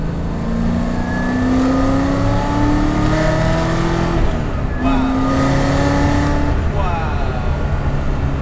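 A 650 hp 1969 Camaro restomod with an LT4 V8 revs up to about 4,300 RPM, the pitch climbing loud and smooth in two pulls with a brief drop between them, heard from close by.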